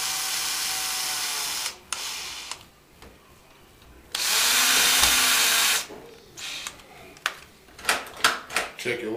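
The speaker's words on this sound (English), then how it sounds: "Once completed, you tighten up the final screws." A power drill drives the final screws on a door lockset in short whirring bursts, with pauses and clicks between them, close and fairly loud, alongside a person talking.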